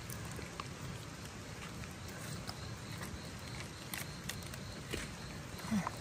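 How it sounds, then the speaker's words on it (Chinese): Steady rain falls through a mountain forest during a bamboo-fungus harvest, a dense continuous patter with occasional sharper drops, fairly close and building in intensity, with no talk. "雨是越下越大了"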